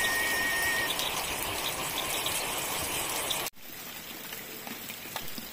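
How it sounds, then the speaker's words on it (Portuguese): Steady rain falls on a home garden and backyard, a dense continuous patter and hiss that drops abruptly to a softer, lighter shower partway through. "Tá uma chuva mais lenta agora, mas tá chovendo muito bom."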